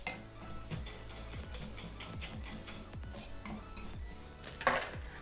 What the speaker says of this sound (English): we're gonna give it a nice whisk and combine